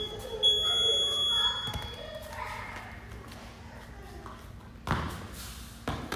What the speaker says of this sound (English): I'll just turn the timer off.